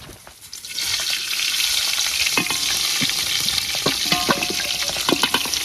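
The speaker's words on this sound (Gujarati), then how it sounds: "આપણું તેલ ગરમ થઈ ગયું છે. તો હવે આપણે મસાલા નાખી દઈશું." Whole spices (cumin, coriander, bay leaf, chilli, cardamom) hit hot oil for dal dhokli and burst into a loud, sustained sizzle with scattered crackles and pops, close and continuous after a brief quiet start.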